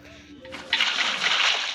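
Water is poured in with a bright splashing rush that starts suddenly and keeps going, close by, with a voice talking faintly at the start.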